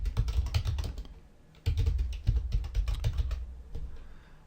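Typing a folder name on a computer keyboard, with bursts of quick keystrokes, a short pause, then more clattering taps close up and clear, with no talking.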